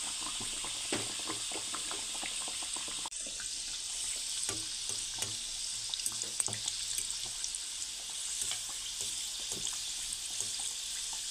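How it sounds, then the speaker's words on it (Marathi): Moong dal kachori deep-frying in hot oil, a steady close bubbling sizzle with frequent small pops and crackles throughout, no voices. "आता आपण यांना तळून घेऊयात। तेल देखील छान असं इथे गरम झालेलं आहे।"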